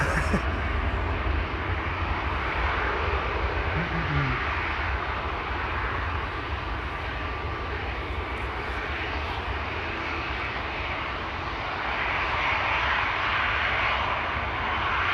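Loud, continuous jet airliner engine roar at Schiphol Airport with a broad steady hiss and hum, close by, with faint talk underneath.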